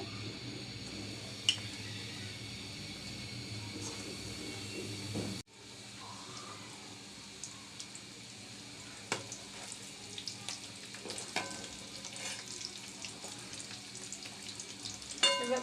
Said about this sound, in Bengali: আমি পরিমাণ মতো তেল বসিয়ে দিয়েছি একটা একটা করে নুডলসের চপগুলো দিয়ে দিচ্ছি